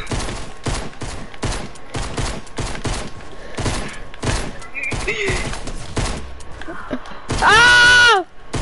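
Rapid pistol gunfire from a two-pistol duel in a video game, a dense string of sharp shots running through the clip beneath steady talk, ending with a loud tonal game sound.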